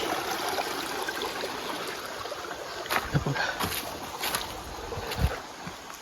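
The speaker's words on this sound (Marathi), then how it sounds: "आणि ही आहे नदी" A river in dense forest rushes with a steady broadband wash, joined by a few splashing knocks and faint gusts, no one speaking.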